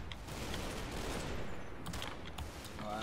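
Gunfire rakes a hedgerow in the Combat Mission: Battle for Normandy game, a dense, continuous crackle of distant small-arms and machine-gun fire with scattered sharper bursts, steady in loudness throughout.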